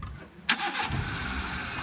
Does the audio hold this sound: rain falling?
no